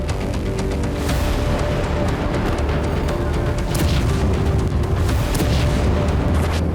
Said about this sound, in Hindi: इजरायली सेना ने बेरूत के दाहिया इलाके में बमबारी की और कई इमारतों को खाक में मिला दिया